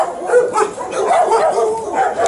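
Several dogs on a farm bark and yip close by in a loud, overlapping flurry of sharp barks with whiny, whimpering tones.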